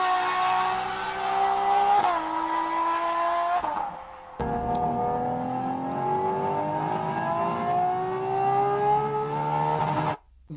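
A 65-degree V12 engine revs hard, its smooth, steady pitch climbing in long sweeps. Near and loud, it briefly drops off around the middle and cuts out near the end.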